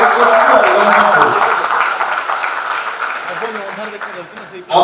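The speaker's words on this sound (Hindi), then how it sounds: "गोटे जोर करताली से स्वागत" Loud, sustained applause from a crowd at a political gathering in Jajpur, welcoming Congress workers who are joining the BJD; the clapping stays dense throughout and swells again at the very end.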